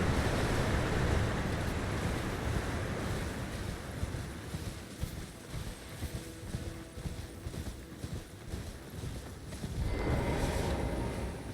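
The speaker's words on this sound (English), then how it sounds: "We should probably check this waterfall as well." A broad, steady rushing roar of falling water from a waterfall on the coast in the Elden Ring Shadow of the Erdtree game, continuous and fairly loud, with heavy rhythmic footfalls or hoofbeats thudding over it.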